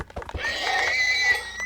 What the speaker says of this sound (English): I can slay some horses and get some leather.